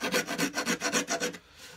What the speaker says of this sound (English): And then I take a file and sandpaper